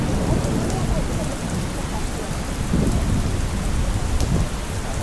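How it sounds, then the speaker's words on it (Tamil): Heavy rain pours down steadily during a trip in Maharashtra near Brahmagiri, with low rumbles of thunder rolling under the dense hiss of water on surfaces. "மழை வந்து போட்டு எடுத்துட்டு இருக்கு"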